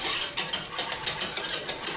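Brisk, rhythmic wire whisk beating banana pudding in a pot, a steady run of close metallic strokes with no voices.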